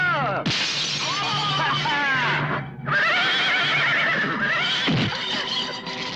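Horse whinnies loudly in a Telugu action film scene amid a chaotic fight, with shattering and crashing noises and shouting voices layered over it.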